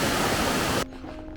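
A small mountain stream flowing down into the valley, a loud close rushing of water that cuts off abruptly partway through, leaving quiet outdoor background.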